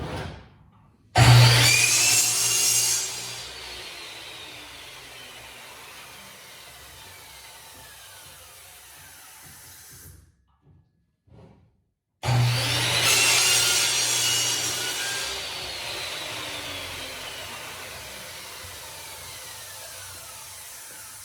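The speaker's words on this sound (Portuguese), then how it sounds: "Agora que eu vou fazer ali na serra, eu só vou cortar aqui o excesso." Table saw trimming excess wood from a homemade cutting guide: a loud whine as the blade spins up, then a long steady cut, a brief stop, and a second cut that winds down.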